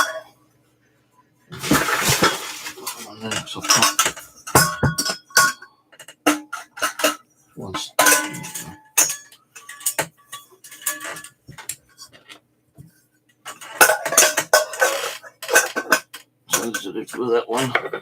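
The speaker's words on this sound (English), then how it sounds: "These are proper camping saucepans and stuff, because they got the heat resistant handles." Metal camping saucepans with heat-resistant handles clatter and clink in irregular bursts as they are handled, close by and mixed with people talking.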